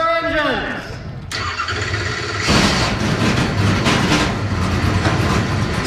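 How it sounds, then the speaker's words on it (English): NASCAR Pinty's Series race cars on the 3.9-kilometer road course at Canadian Tire Motorsport Park fire up after an announcer's call, engines catching and rising into a loud, sustained roar of many motors together. "start your engines."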